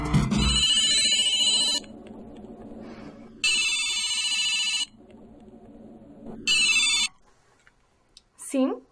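A telephone rings in three loud, bright electronic bursts, each lasting about one and a half seconds with quiet gaps between them. The rings come before someone answers in Portuguese, and a faint voice is heard between them.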